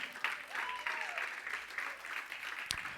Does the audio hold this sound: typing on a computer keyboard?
no